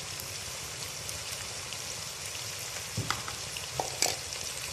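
Red chili and turmeric powder stirred into a sizzling pan of spiced potato mixture, a soft constant fry with a few clinks and scrapes of a spoon near the end.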